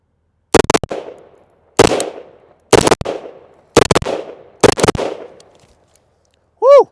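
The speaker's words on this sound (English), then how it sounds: "not really used to shooting this muzzle brake a whole lot." A rifle fitted with a muzzle brake fires five loud, sharp shots at about one-second intervals, each followed by a short ringing echo, then a brief electronic beep at the end.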